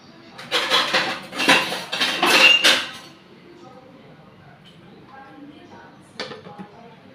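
A metal lid clatters and clinks onto a cooking pan of fish in a home kitchen, a burst of rattling knocks up close, followed by quiet and one last short clank.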